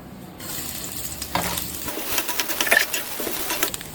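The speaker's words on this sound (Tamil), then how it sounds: "நறுக்கின இஞ்சியும் தேங்காயையும் ஒன்றா போட்டு வறுத்துக்கலாம்." Oil sizzles and crackles steadily as chopped ginger and coconut fry in a pan, with occasional stirring scrapes and a brief clink, no talking.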